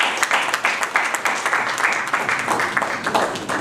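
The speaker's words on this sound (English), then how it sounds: "please give him a big round of applause" Audience at a keynote session of the Prinvest 2024 conference in Lagos applauds steadily, dense overlapping claps at a constant level with sharper individual hits poking through, and no voices.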